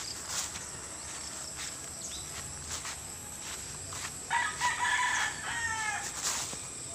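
Rooster crowing and chickens at a poultry farm in Leyte, a few crows and clucks rising over a constant high chorus of crickets and insects, moderately distant.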